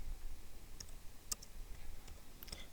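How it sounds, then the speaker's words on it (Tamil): A computer keyboard typing a search into Google, with a string of sharp, separate key clicks at an irregular pace, close and fairly quiet over low background hum, with no talking. "கூகுள் நான் டேரெக்டாக கூகுள் ட்ரைவ் நான் டைப் பண்ணுறேன்"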